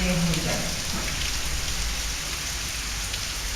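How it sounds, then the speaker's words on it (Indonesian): Heavy rain pours down steadily in a broad, constant hiss, loud and close throughout with no voices. "entah berapa ribu kubik Allah menurunkan di saat ini hujan"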